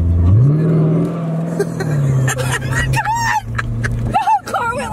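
A Chevrolet Corvette is floored hard, its engine note climbing quickly then holding a loud, close roar as the car pulls away, with excited voices and shouts breaking in over the sound.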